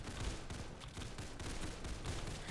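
Bomb-throwing tower attacks in Roblox Tower Defense Simulator, a faint, dense stream of popping blasts and bursts overlapping quickly with no pauses, like distant rapid gunfire.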